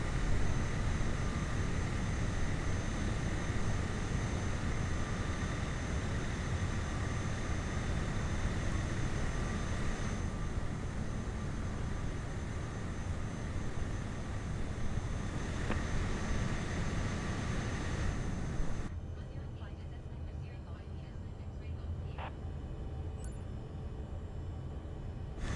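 A small propeller aircraft taxis after landing near Lossiemouth, its engine a steady broadband drone with a faint whine, close and continuous, dropping abruptly to a quieter hum near the end.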